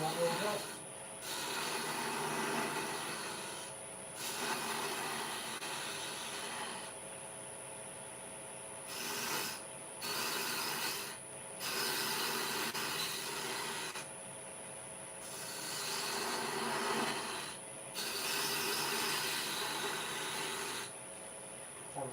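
A spindle gouge cuts a wooden candlestick spinning on a lathe, giving repeated rasping scrapes in uneven bursts over a steady motor hum, fairly quiet.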